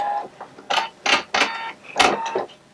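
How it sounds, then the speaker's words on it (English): A sewing machine stitches fabric sections together for a festive fall pumpkin, heard as several short bursts of clattering mechanical whir with brief pauses between, close and fairly loud. "I'm just sewing my sections together still."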